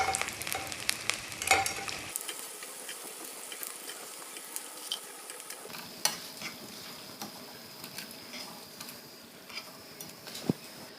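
Cajun-seasoned baby potatoes frying in hot oil, a steady close sizzle with occasional clinks and scrapes of a utensil against the pan, no voices.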